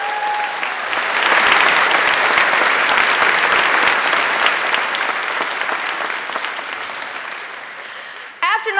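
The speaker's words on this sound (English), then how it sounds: "Would you give them another round of applause, please?" Sustained audience applause after a welcome-back address fills the room, swelling early and then holding steady before tapering; a brief voice breaks in at the very end.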